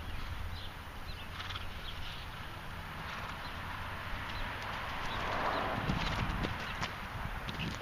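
Big jumping horse being ridden, its hooves clip-clopping in a steady rhythmic gait through a constant outdoor background, moderately near.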